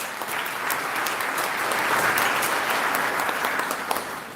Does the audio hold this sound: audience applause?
yes